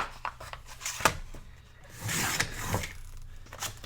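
Paper strip cut for a scrapbook page, with a few close crisp snips and rustling handling noise as the paper is trimmed and moved, no talking.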